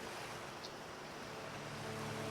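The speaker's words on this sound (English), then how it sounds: "here you can hear the crashing of the waves." Steady broadband ocean surf rolls continuously along the shore at Warwick Homestead in Fallout 4, a dense, even wash of waves with a faint wind-like hiss and no distinct individual breaks.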